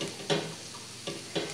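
Prawns frying in a pan as chopped ginger, garlic, shallots and onion go in, giving a low steady sizzle with three short bursts of stirring clatter, close and quiet, with no talking.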